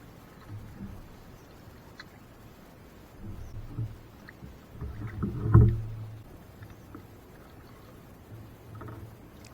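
Kayak paddle strokes dip into calm lake water, soft rhythmic splashes and drips with a slightly louder stroke near the middle, over faint wind and lapping water.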